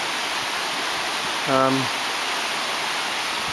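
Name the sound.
river flowing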